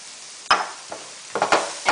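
Turmeric stirred into frying onions in a pan: a few sharp scraping strokes of a utensil over a soft background sizzle, irregular and close by.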